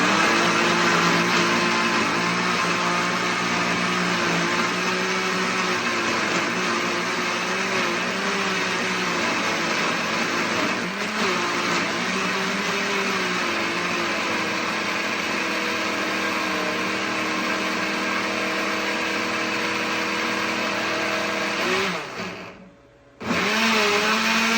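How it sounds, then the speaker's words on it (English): A blender whirs loudly and steadily, puréeing a cauliflower Alfredo sauce with a cup of Parmesan cheese. Its pitch shifts slightly now and then, and it cuts off abruptly near the end. "we're just going to blend this up"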